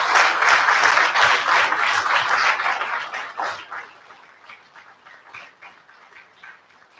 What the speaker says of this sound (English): Let's give them a hand clap before you start